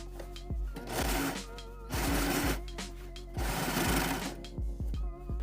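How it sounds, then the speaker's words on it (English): A sewing machine or serger stitches the side edges of a tennis skirt, running in loud bursts of rapid, even mechanical chatter separated by short pauses. "starting from the bottom, serge or stay stitch both sides of the skirt"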